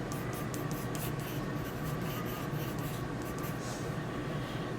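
Graphite pencil sketching fine hair wisps on paper, a steady soft scratchy stroking that runs continuously at close range.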